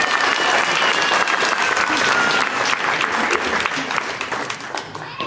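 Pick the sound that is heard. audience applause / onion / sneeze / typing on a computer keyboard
audience applause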